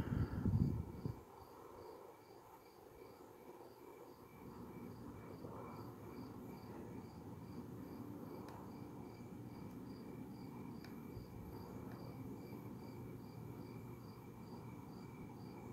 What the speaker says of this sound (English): think it's crickets chirping now.